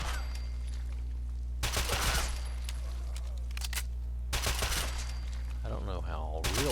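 Bursts of Uzi fire in the Fallout 4 video game arrive as two dense rapid volleys of a second or so each, separated by quieter game ambience, with a voice talking faintly.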